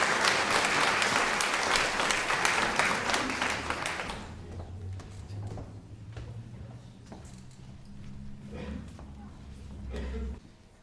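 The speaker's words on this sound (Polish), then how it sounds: "Ogromne brawa dla wszystkich naszych wykonawców." Audience applauding performers at a Polish folk music event, a dense clatter of clapping that fills the first four seconds, then thins to scattered claps over a low sustained hum from the stage.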